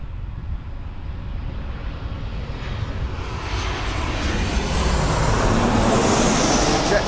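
A Jet2 airliner without winglets, inbound from Olbia, arriving at Birmingham Airport: a broad jet engine roar that swells steadily louder as it approaches, with no talk.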